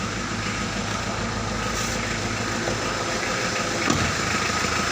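A diesel engine turns over and settles into a steady, rumbling idle, close and continuous throughout.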